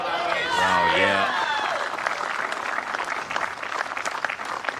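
Crowd applause rising after a shot in a men's pairs lawn bowls final between Australia and Ireland, beginning under a commentator's voice and then continuing as a steady, fairly loud clatter of clapping for several seconds.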